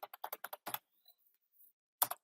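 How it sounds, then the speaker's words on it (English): Rapid clicking keystrokes on a computer keyboard while entering data into a Microsoft Access form, a quick burst of close taps followed by a pause and then two more keystrokes. "or I can start typing"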